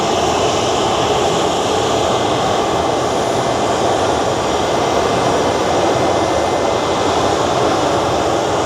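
A business jet takes off at a London airport, its engines giving a loud, sustained roar that stays powerful and steady throughout, heard alone without talk.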